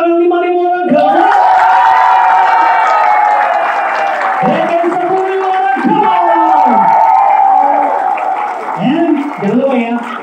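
A crowd of about 5,000 people at a motivational coaching seminar applauds and cheers loudly, with sustained whoops and shouted voices rising and falling over continuous clapping.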